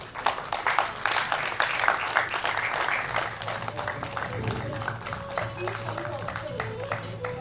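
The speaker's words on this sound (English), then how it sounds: "Can we hear a huge round of applause?" Audience applause at a business convention felicitation ceremony, moderate clapping from a hall crowd that swells early then fades under murmuring and a low hum.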